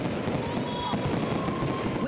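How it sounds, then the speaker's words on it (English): Illegal at-home fireworks go off across Southern California neighbourhoods on the Fourth of July, a steady crackle of scattered pops and bangs at a distance, with faint voices mixed in. "The illegal kind were going off all over Southern California."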